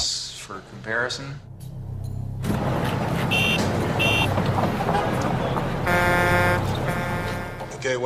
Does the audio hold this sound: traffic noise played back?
yes